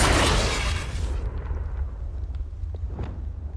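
A burst from the Confringo fire spell in Hogwarts Legacy erupts loud and broadband at the start, then decays over about a second into a low rumbling bed with a few faint crackles and pops.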